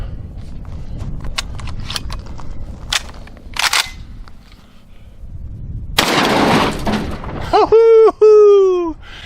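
A Citadel Boss Hog 12 gauge shotgun firing a high brass 4-shot load outdoors, with several sharp cracks and clicks, then one loud booming blast with a ringing tail, followed by a voice calling out.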